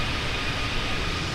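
A Fenix A320 airliner's jet engines spool down toward idle in Microsoft Flight Simulator, giving a steady broadband roar and whine that holds at a constant level with no talk over it.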